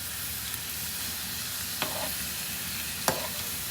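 Tomato and onion sauté in a pan, a soft, steady sizzle broken by two sharp stirring scrapes from a utensil.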